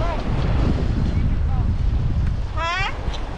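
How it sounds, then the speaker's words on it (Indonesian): Wind gusting across an open beach on a clam-digging outing, a steady low roar buffeting the microphone throughout, with brief voices and a high chirping call rising over it near the end. "Angin man lagi."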